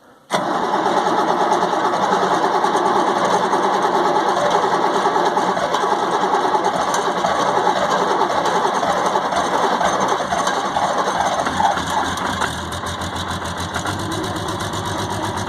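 An old farm grinder engine, one that usually needs ether and burns blue smoke, fires up right away and settles into a loud, steady idle with a slight drop in pitch near the end.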